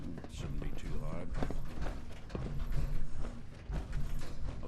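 Small metallic clicks, creaks and scraping rattles as a lock on a locked door is picked in Fallout 4, irregular and close, with faint background noise throughout.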